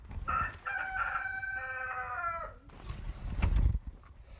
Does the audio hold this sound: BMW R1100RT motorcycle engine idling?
no